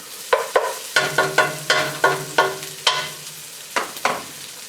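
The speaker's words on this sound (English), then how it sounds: "As you can see, our vegetables are well sauteed." Vegetables sautéing in a pot for soul food black-eyed peas, a dozen or so sharp spoon knocks and scrapes in an uneven rhythm over a soft sizzle, close and clear, with no talk.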